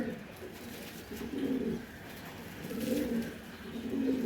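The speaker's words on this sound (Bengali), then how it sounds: "এটা মাদি একটা কবুতর" A female racing pigeon coos close by, giving soft throaty rolling calls that swell and fade in a steady repeating rhythm, with no voices.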